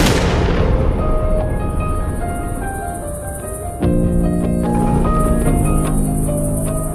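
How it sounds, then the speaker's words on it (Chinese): Gunfire in a trailer for the Hong Kong action film 復仇者之死 (Revenge of the Dead), starring Juno and Sola Aoi: sharp blasts over a dense, loud rumbling score, with another burst of shots midway. "陈杰， 开枪！"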